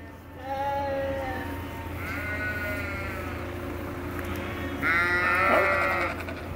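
Sheep and lambs bleating at a spring farm, several animals calling in overlapping, wavering cries at close to middle distance, with a steady low hum of background noise beneath them.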